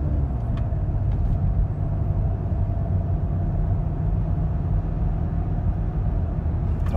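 A 2008 Pontiac G6 automatic with 183,000 miles runs steadily while its transmission is tried for shifting, giving a constant low engine rumble and drone with no distinct shift change and no talking.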